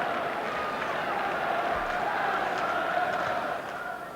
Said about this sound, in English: Dalglish, not surprisingly, greeted by generous and respectful applause from St James's Park